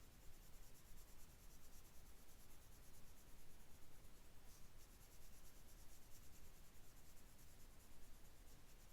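A colored pencil, worked on its side with light pressure, shades tiny circles on paper, giving a faint continuous scratchy rubbing that stays close and even throughout.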